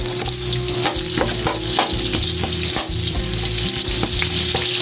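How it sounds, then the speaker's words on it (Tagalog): Garlic and onion sauté in a hot pan, a loud, close, dense sizzle with regular spatula clicks and scrapes as the pan is stirred; no voices. "muli po tayo magigisa ng bawang. Sunod na rin po natin ang sibuyas."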